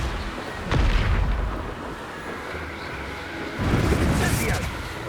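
The Confringo blasting spell goes off in Hogwarts Legacy as two heavy, booming explosions, one early and one later, each with a rumbling low-end burst that fades into a noisy background.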